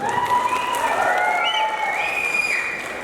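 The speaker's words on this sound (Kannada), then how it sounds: "ದಯವಿಟ್ಟು ಚಪ್ಪಾಳೆ" An audience breaks into applause for a producer at a Kannada film event, a dense, loud wash of clapping that holds steady for a few seconds and eases off slightly at the end.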